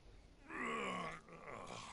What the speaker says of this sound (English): Oh wow, Astaroth's yawning too.